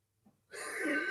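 A man coughing in a short, rough burst that follows a brief faint breath, then fades into a raspy exhale.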